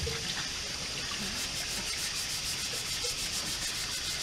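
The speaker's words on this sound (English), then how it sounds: "I'm going to take an abrasive pad" A Scotch-Brite abrasive pad scrubs a rusty post from a 15-inch planer being rebuilt, giving a soft, continuous rubbing hiss with faint repeated strokes throughout.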